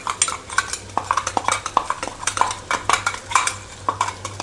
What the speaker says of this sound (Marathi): त्याच्या सकटच सगळं मटण ओतून घ्यायचं